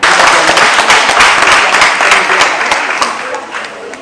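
Warm applause from a crowd at a Beninese women's association celebration, loud, steady clapping that slowly fades over a few seconds.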